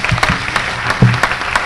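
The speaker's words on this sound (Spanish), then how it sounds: "quería pedir un aplauso para quien creo que fue la organizadora de esto" Applause from an audience at a Spanish-language gathering, honoring organizer Andrea Elizamburu; a short burst of clapping, moderately loud and fairly close, with a few sharper claps standing out.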